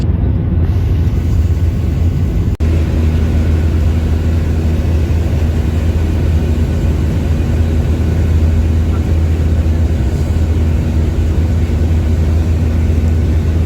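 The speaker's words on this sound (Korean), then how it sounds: "비행기가 착륙을 해서 조금 마음이 편안해졌습니다" An airliner engine drones loud and steady in the cabin during flight toward landing, a constant low roar with a brief sharp click early on and no voices.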